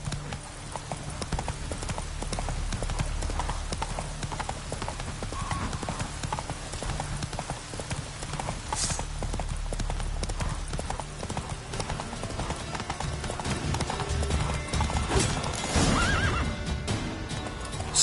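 Roach, the horse in The Witcher 3, gallops with steady clip-clop hoofbeats throughout and gives loud whinnying neighs, one near the middle and another toward the end, all under dense continuous game ambience.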